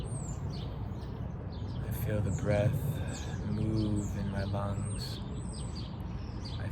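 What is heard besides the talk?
birds chirping outdoors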